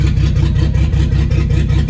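A turbocharged Datsun 280Z engine on a first drive, heard from up close as a loud, steady, pulsing low rumble with an even throb, no voices.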